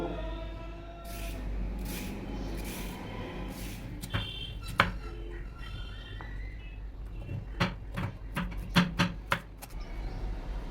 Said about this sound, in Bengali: আলুটা ছাড়িয়ে নিচ্ছি